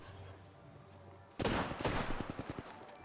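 Burst of video game gunfire erupting after a quiet stretch, a loud onset followed by a rapid series of sharp shots with a pause between volleys, close and dense.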